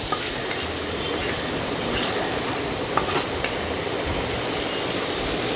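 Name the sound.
stirring and frying spice paste with ginger in a pan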